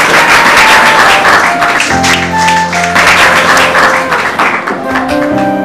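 Classroom of students clapping in a school staff-room scene, a dense, loud patter of many hands sustained throughout, with a held musical tone entering partway.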